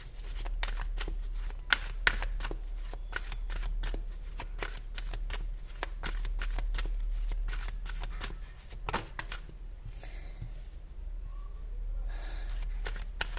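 Tarot cards shuffled at close range, a steady stream of quick riffling snaps and flicks over a low constant hum, continuing for several seconds before easing off near the end, no talking.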